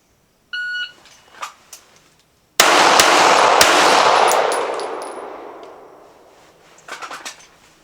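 A .308 rifle fires the three quick shots of a Mozambique drill, two to the body and one to the head, right after a series of shot-timer beeps. The reports are loud and close, with a long reverberant tail, and some faint clatter follows.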